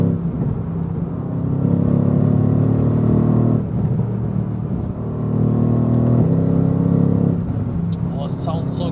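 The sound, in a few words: Mercedes-AMG GT R engine driving on the Autobahn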